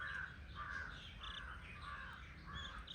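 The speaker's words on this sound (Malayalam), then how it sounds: "കാക്കയൊക്കെ കരയുന്നുണ്ട്" Crows caw repeatedly in a steady series of harsh, rasping calls, moderately distant, from outside near a yard with rambutan and chamba trees where a hen and chicks roam.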